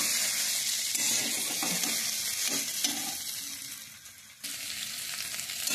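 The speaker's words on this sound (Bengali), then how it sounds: "এবার আমি ভালো করে নেড়ে নেব সবজিটাকে।" Vegetables with turmeric being stirred in a frying pan, a continuous close sizzle with scraping spoon strokes against the pan, loud and steady throughout.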